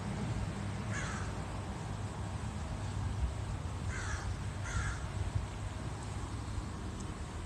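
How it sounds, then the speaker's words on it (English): A crow caws three times out in the open, once, then a pair of calls a few seconds later, fairly distant and set against a steady broadband wind and background roar. "The crow says so."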